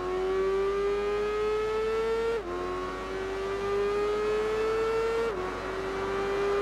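A racing motorcycle screams around a lap in the game Tourist Trophy, its high engine note climbing steadily through each gear and dipping at two quick upshifts, loud and continuous.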